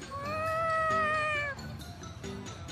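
A cat in the PS3 game Tales of Xillia 2 gives a long, loud, drawn-out meow, followed by a few shorter, softer mews and faint game ambience.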